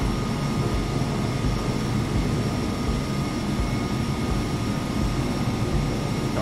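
A320 airliner jet engines spool up for takeoff in a flight simulator game, producing a steady, loud, broadband roar with deep rumble that holds without letup and no voices.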